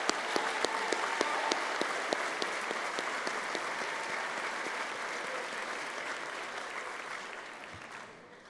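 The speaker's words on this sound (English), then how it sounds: "Let's give a round of applause to our 7th grade orchestra students who helped bring in the night." An audience at a middle school 8th grade celebration applauds the 7th grade orchestra students, with dense, steady clapping that fills the hall and then slowly thins and fades toward the end.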